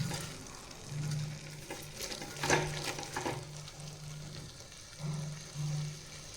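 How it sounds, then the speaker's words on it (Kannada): Water poured into a pan of vegetables and spices cooking for veg pulao, with a steady close sizzle and soft stirring and splashing sounds. "ಸೊ ಇವಾಗ ನಾನು 1 ಗ್ಲಾಸ್ ಅಕ್ಕಿಗೆ 2 ಗ್ಲಾಸ್ ನೀರು ಹಾಕ್ತಾಯಿದ್ದೀನಿ"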